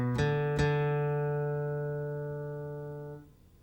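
Two plucked acoustic guitar notes, the opening of a guitar solo, ring out close and clear, the second struck shortly after the first, then sustain and slowly fade with no talk.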